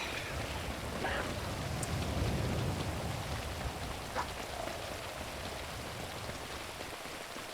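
Steady rain falling in GTA 5 during a Project Homecoming race: a dense, constant hiss of downpour with a low rumbling bed, a few brief sharper clicks, and no one talking.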